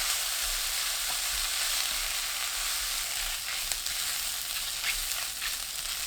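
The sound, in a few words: fish cake stir-frying with garlic, onion and green onion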